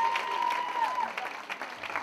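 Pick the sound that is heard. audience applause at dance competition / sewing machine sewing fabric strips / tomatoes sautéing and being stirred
audience applause at dance competition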